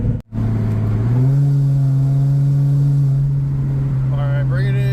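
A Cadillac STS with a new aftermarket exhaust pulls away, its engine rising in pitch and holding a steady deep drone from inside the car, with a voice talking briefly near the end.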